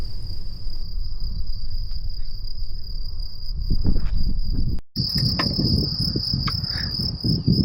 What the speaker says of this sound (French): Réveil en douceur ce matin, au son des grillons